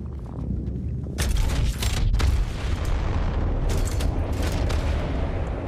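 Deep booming blasts from a gravity cannon firing in a video game, several heavy bursts rolling over a constant loud noisy game background with no clear gaps.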